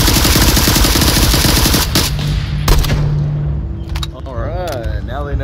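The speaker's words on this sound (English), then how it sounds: "I got the fastest shooting gun." Rapid automatic gunfire from a fast-firing gun in Onward VR, a dense burst for about two seconds, then a sustained tone and scattered sharp clicks as voices talk underneath.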